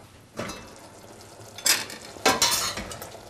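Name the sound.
stirring soy mince aubergine curry in pan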